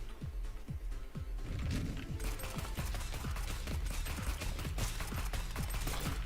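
Rapid bursts of gunfire from the player's weapon in the video game Neon Abyss, a dense, continuous fusillade of sharp repeated shots with mechanical clatter, loud and close throughout.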